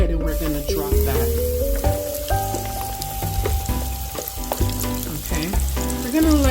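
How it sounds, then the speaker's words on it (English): Shrimp deep-frying in a fryer basket of oil at 350 degrees, a steady, dense crackling sizzle that stays loud and close throughout, with bubbling and spattering and no talking. "Okay, we're going to let this fry until they start to rise to the top."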